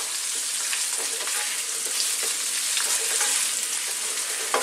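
Onions frying over high heat in a pan while being stirred constantly, a steady close hiss of sizzling with soft scraping strokes, no voices.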